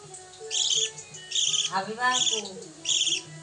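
A young pet bird calls in four short, high, chirping bursts spaced about a second apart, close by, with a low voice briefly audible between the calls.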